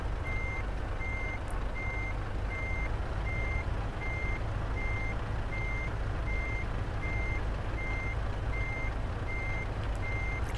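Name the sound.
reversing beeps of a MAN TGX truck backing up, Euro Truck Simulator 2 video game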